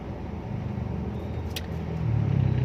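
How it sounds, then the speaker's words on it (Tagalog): Heavy road traffic rumbles in a dense, continuous wash of passing vehicle noise, with one engine swelling louder near the end. "Sobrang traffic mga idol."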